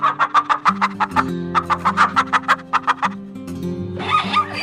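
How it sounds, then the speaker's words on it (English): Hen clucking close up, a rapid run of about a dozen rhythmic short clucks, a brief pause, then another quick series and a drawn-out cackle at the end. "This is hen."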